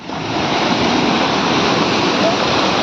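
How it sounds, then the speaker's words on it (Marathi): Sea waves wash in along a beach during a heat wave, a steady broadband surf rush that holds loud and close throughout with no clear breaks. "लाट आली बघ."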